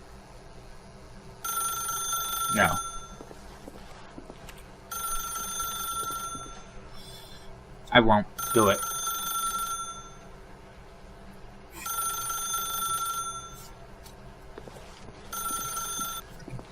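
A telephone rings in The Stanley Parable, sounding in five evenly spaced bursts of bright, rattling bell tone over a quiet hum, with someone speaking briefly between rings.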